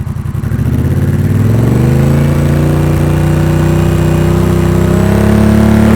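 Honda Rebel 1100 motorcycle from 2021 fitted with a Coffman's Thunder exhaust, revving steadily up to about 4,000 RPM: a loud, close engine note that starts with a brief idle, then climbs smoothly and holds at a sustained roar with no talking.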